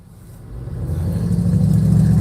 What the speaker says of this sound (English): Hear that car? Same car. Come on, man, get that fixed.